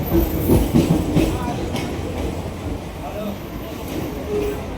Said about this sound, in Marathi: आता दादरवरनं आम्ही ट्रेन पकडला